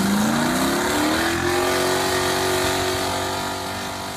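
A truck engine roars as the truck launches forward, a loud, continuous rising rev that climbs in pitch and then holds steady while slowly easing off.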